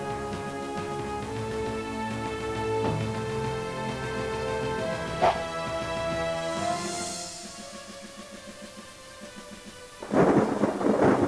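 Thunder in the 3DO version of the Alone in the Dark video game, where it plays under game music. One deep rolling crash builds and fades, and a second loud burst breaks near the end.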